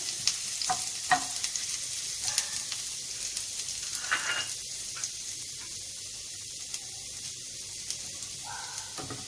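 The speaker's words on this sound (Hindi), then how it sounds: "अब इसमें ये चॉप किया हुआ हम लहसुन डाल रहे हैं। अब इसे हमें हल्का ब्राउन करना है।" Chopped garlic fries in a pan for chicken stromboli bread, giving a steady sizzle with occasional stirring scrapes and clinks, close and alone.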